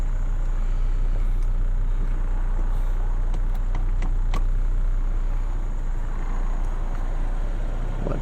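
A Mercedes W140 350SD with a six-cylinder diesel engine on the move: a loud, steady low rumble of engine and road noise heard from inside, with a few faint clicks and rattles and no talking.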